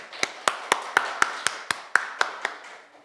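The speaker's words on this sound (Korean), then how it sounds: "하나님께 영광의 박수로 영광 돌리겠습니다." About ten evenly spaced claps at a steady rhythm ring out clearly, as a church congregation at an Easter Sunday service gives rhythmic applause.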